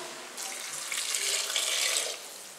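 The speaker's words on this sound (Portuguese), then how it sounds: "Vou acrescentar a água." Water runs steadily from a tap into a cooking pot holding a rice and tomato mixture, a broad hiss that starts abruptly, holds for about two seconds and then tapers off, with no talking.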